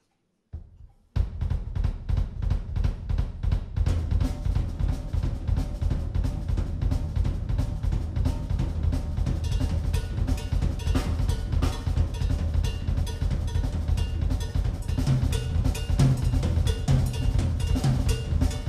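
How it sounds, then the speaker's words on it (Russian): Drum kit plays a steady paradiddle sticking pattern, dense and loud, with rapid evenly spaced hits and bright metallic cymbal or bell strikes running continuously with no talk. "Вот как звучит обыкновенный парадидл."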